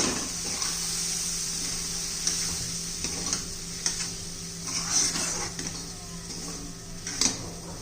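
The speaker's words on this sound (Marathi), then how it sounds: "जे खालून लागू नये म्हणून एकसारखं हलवत राहायचंय 1 मिनिटभर." Peanuts, sesame seeds and split roasted gram dal being stirred and sautéed in a pan for a spinach and pea curry, with a steady soft sizzle and scattered light scraping clicks of the spoon close by.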